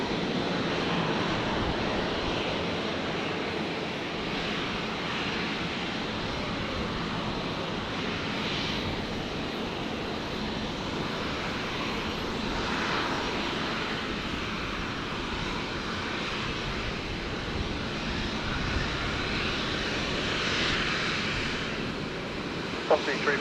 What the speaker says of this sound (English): Virgin 356. Rotating there, heading down to Melbourne from 19 left.